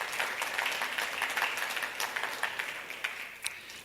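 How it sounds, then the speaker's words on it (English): A conference audience gives a round of applause, a steady, moderately loud wash of clapping that slowly thins out toward the end. "Let's give them a round of applause."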